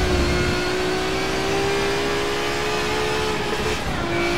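Race car engine in Forza Motorsport 7 holds a loud, steady high drone, a mid-clip gear shift dropping the pitch, then pulling on alone.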